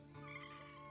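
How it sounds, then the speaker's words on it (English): A pet cat meows faintly on a streamer's lap, a brief, thin cry heard low under a steady background hum. "Yes, the cat is here."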